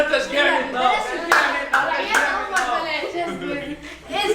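A crowd of people applauds in encouragement, with sharp, rapid handclaps bursting out in several loud waves over lively chatter and laughter close by.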